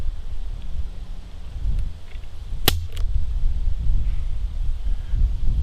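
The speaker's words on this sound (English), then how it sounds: "so let's do some trigger pulls here real quick" Two sharp mechanical clicks a fraction of a second apart as the heavy trigger of an Umarex Avera air gun is pulled, set against steady outdoor wind noise.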